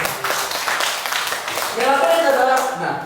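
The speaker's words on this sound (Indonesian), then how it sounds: "Tepuk tangan." An audience claps through a product presentation at a One More International seminar, a dense, steady patter of applause that swells slightly toward the end, with some vocal sound mixed in.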